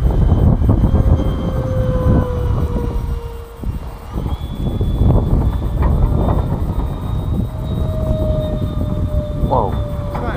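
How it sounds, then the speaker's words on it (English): A Freewing F-35 Lightning II electric ducted fan model jet flies with a whining fan tone that shifts in pitch as it passes, over a rumbling background and nearby people talking. "Is that an electric fan then? Yeah. It's an ADF, this one, yeah. Electric ducted fan, they call it. It's like a fake turbine."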